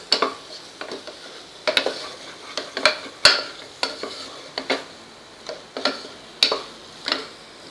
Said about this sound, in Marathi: आता हे आपल्याला अर्धा मिनिट परतून घ्यायचं आहे छान